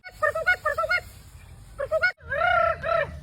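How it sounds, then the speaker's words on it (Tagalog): Large birds call outdoors in a run of nasal, honking cries, first a quick choppy series, then longer wavering calls after a brief gap. They sound fairly close, over a steady low background rumble. "May rinig ako ibon."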